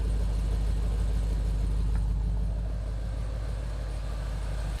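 Gen5 Chevrolet Camaro with long tube headers and factory GM Performance mufflers, a steady deep exhaust rumble at idle, close and continuous with no talk, cutting off abruptly at the end.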